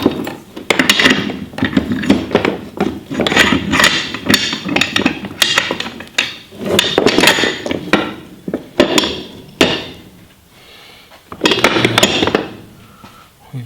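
Metal parts of a Craftsman floor jack, restored after more than 20 years, clank and tap repeatedly as a wheel is fitted, with bursts of knocking close by and short pauses between.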